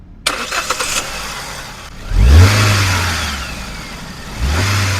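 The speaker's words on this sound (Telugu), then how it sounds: "ఇప్పుడు కార్ ఇంజిన్ చూసి చూపిస్తే మీరు వినండి." A Hyundai i20 engine cranks and starts, revving up loudly, settling, then revving again, heard up close with no talk.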